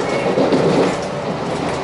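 A three-car JR Hokkaido 721 series electric train, set F2107, runs along the Hakodate Line between Iwamizawa and Mineobu, giving a steady, loud, continuous rumble of wheels and motor throughout, with no voices heard.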